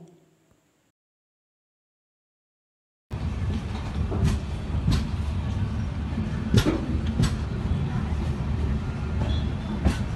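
Tambaram-Sengottai Super Fast Express train heard from inside a coach, a rumbling, rattling rolling noise with occasional sharp clanks and knocks, starting abruptly after near silence and continuing steadily.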